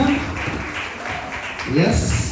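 Audience applause at a medical records symposium, a burst of clapping that rises, thins out briefly, then swells again, with a voice speaking over part of it.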